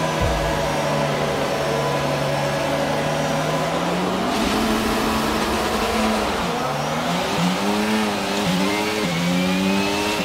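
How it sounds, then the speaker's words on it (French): A Formula 1 car engine in the F1 22 racing game revs high and steadily at the race start, its pitch rising and falling in loud sustained sweeps with no voices. "Prépare le moteur, monte dans les tours et attends."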